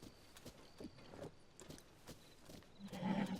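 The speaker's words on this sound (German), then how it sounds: "Und noch mehr Pferde." Horse hooves in the video game Zelda: Tears of the Kingdom, a quiet, steady clip-clop of trotting steps with a brief louder swell near the end.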